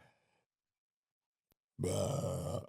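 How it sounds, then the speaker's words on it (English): A single loud, close burp erupts after near silence, a rough, grunting belch lasting under a second, preceded by a faint murmur. "First burp in the new studio"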